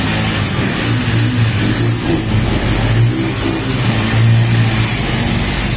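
Sparkle 125 motorcycle engine, fuel injected, running close by with a steady mid-pitched drone and low throbbing pulses that swell in brief revs, no talk over it.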